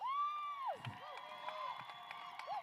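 A crowd at a five-star show jumping team competition cheers for Team Helios, a sustained roar of voices with a shrill whistle-like tone riding over it.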